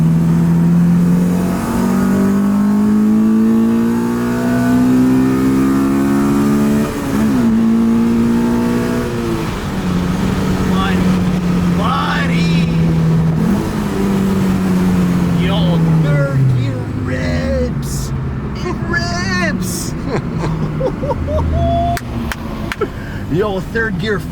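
A Honda Civic with a K20 engine pulling hard through third gear, loud and close from the cabin, the engine note rising repeatedly through sweeps with brief shifts, while occupants talk over it.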